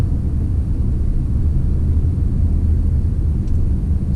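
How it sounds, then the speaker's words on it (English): A supercharged V8 in a 2017 Range Rover Sport rumbles through its exhaust, a loud, deep and continuous low burble heard up close with no voices over it. "You hear the noise of the supercharged and you hear a nice bubbling, whatever it's called, from the exhaust."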